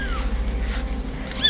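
A kitten gives a short, thin meow near the end of the clip, close by, over a low steady hum.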